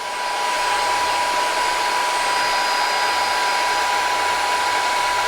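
A small UpPro cordless baby hair and body dryer blows steadily on adult hair with a constant whirring hum and airy rush, running continuously at an even level.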